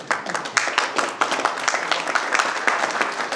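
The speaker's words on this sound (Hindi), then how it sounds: "तालियां बजा लो जनाब" Lively applause rolls through a seminar crowd, many hands clapping in a busy, uneven rhythm with sharp individual claps standing out, continuing steadily without talk.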